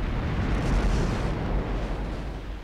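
Naval shells strike a battleship in the Ultimate Admiral naval warfare game, a dense rumbling barrage of low booming impacts that rolls on continuously and loudly without a break.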